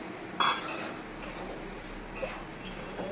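Chopped boiled egg being stirred into a cooking pot, with a few metallic spoon clinks and scrapes against the pot over a low background sizzle, close and sparse.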